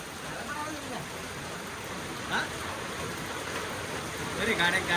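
Rain mixed with hailstones falling during a storm, a steady hiss of water with faint scattered impacts, fairly quiet and continuous.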